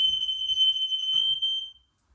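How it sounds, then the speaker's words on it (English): A smoke-triggered fire alarm set off by breakfast cooking smoke, one steady loud high-pitched electronic tone held close by for under two seconds before it cuts off into silence, with a few faint room bumps beneath. "Fire alarm."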